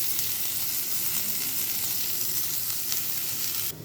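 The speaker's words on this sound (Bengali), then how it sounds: "এবার পেঁয়াজগুলো ভাজা ভাজা হয়ে এসছে" Onions frying in fish-frying oil with bay leaf, cardamom and cinnamon for a prawn malai curry, giving a steady, close, continuous sizzle that holds evenly throughout with no talk.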